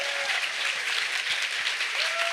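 Steady audience applause fills a conference hall at a hardware hacking convention's badge awards ceremony, dense and continuous for a couple of seconds with no talking over it.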